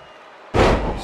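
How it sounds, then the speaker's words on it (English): A heavy slam lands hard in the WWE 2K22 wrestling video game as a scoop slam hits the ring mat, a single loud thud followed by a brief roar of crowd noise. "Scoop slam."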